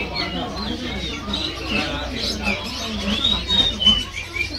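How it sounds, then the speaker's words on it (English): Parrots and other caged birds in a Hong Kong bird garden, a busy layer of chirps, squawks and whistles from several birds at moderate distance, under a murmur of crowd voices. "Look at the parrots in here."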